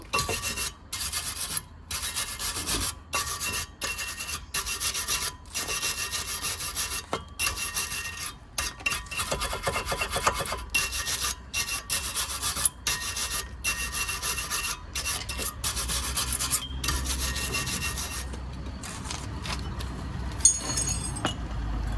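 A wire brush scrubs the rear brake disc of an Opel Astra in quick, repeated rasping strokes, a loud, gritty scraping rhythm that runs nearly nonstop with brief pauses between passes.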